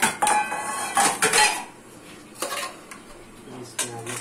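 Metal cutlery and dishes clatter in a home kitchen while a meal of arvi gosht salan with salad is being plated into a serving vessel, several sharp clinks and scrapes in irregular bursts, close and fairly loud.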